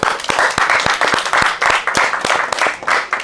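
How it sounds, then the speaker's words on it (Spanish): Audience applause at a school anti-bullying talk, dense steady clapping from a crowd, loud and sustained throughout with no voices over it. "Un aplauso para él, por favor."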